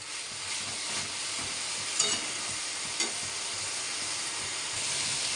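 Ridge gourd with coconut fries in a pan with a steady, close hissing sizzle, broken by a couple of faint clicks from stirring.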